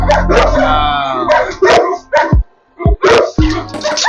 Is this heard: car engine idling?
no